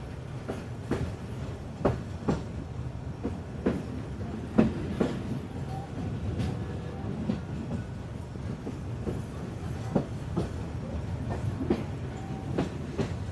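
The Dolonchapa Express train rolls along the tracks in Bangladesh with rhythmic clickety-clack beats over a steady rumble, heard from inside a carriage.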